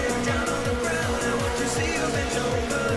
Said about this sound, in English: Chain of 3 cars driving really close to each other.